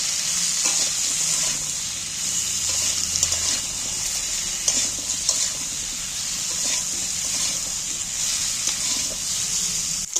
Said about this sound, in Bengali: এইবার আমি একটু একসাথে নাড়াছাড়া করে নিচ্ছি তেলের মধ্যে